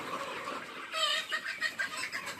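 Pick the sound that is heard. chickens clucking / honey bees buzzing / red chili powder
chickens clucking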